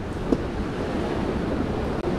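Ocean surf washes over the rocks of a jetty in a steady, close roar, with wind buffeting the microphone and one brief splash near the start.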